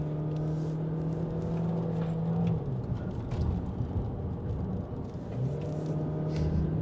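A Jetour Dashing 1.5 turbo with an automatic gearbox drives uphill on a mountain road, its engine drone steady and close, with a tone that drops partway through and then climbs again as the gears change on their own.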